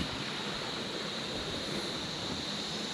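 Natural mountain water source on a steep trekking trail to Khaliya Top near Munsiyari, flowing as a steady, loud, broadband rush of water with no breaks and no voices.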